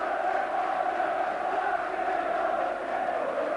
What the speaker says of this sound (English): There's a little bit of sporting applause there for that run from Grobbelaar aimed towards Mark Robins